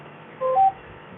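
A short electronic beep pattern of two or three tones from a tractor's fertiliser spreader control, clear and close, over a low steady background hum.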